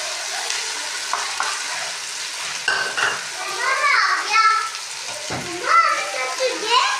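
Sugar and a layer of rice added to hot ghee in a pan, giving a steady sizzle with stirring and scraping sounds; a voice speaks over it at times.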